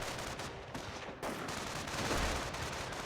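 Nebelwerfer rocket artillery fires in Company of Heroes, a dense, continuous roar of launches and blasts with crackling bursts layered over a battlefield din.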